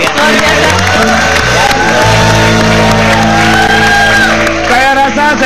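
Studio audience at an Indonesian TV variety show erupts in loud, sustained shouting and cheering from a close crowd, with whoops rising over a steady roar and music playing throughout.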